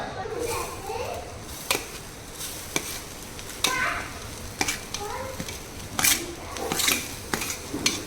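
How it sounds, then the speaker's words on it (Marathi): Grated coconut being dry-roasted and stirred in a pan for steamed modak, with scraping, clinking strokes and a light sizzle, and a voice and other talk running underneath. "खोबराचा चांगला भाजून घेत"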